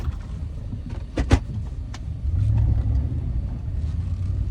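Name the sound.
truck engine revving while stuck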